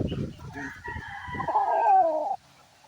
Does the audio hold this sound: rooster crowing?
yes